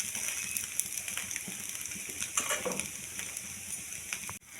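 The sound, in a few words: oil added to pan, frying muri chakuli pitha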